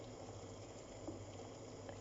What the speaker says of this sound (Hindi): जब आप अंडे उबालें तो आपने पानी में अंडे लिए रखे, उसको चूल्हे में चढ़ाया